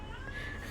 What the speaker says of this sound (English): they all sound different when they meow